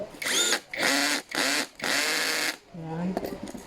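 Power drill driving bolts into a black fabric counter-high chair during assembly, in several whirring bursts of rising and falling pitch separated by short pauses, close and fairly loud, with a voice heard near the end.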